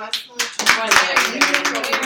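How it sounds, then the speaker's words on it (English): Applause for the presenter Heather breaks out in uneven, sharp claps from a gathered audience, with a voice talking over the clapping throughout. "Let's give Heather a round of applause"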